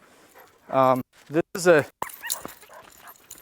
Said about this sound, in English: a first bird dog to anybody should not be a Drathar